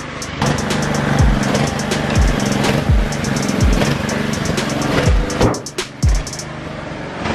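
A sedan's engine idles steadily and close by, a continuous low hum with a few brief dips and bursts of clatter, no voices.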